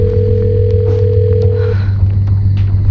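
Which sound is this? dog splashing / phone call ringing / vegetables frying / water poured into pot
phone call ringing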